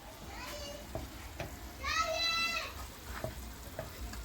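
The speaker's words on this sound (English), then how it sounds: "It's because the baby is calling his dad." A baby's voice calls out briefly in the background, over a low kitchen sizzle of shrimp, sausage and fried rice cooking, with a few soft clatters.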